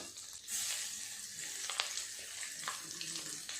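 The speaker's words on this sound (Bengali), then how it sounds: "এই তেলেই চিংড়ি মাছগুলো ভেজে নেব।" Prawns frying in the same hot oil just used to brown potatoes, cooked for prawn kalia. A steady, bright sizzle runs throughout, with a few sharp pops and spits and no voices.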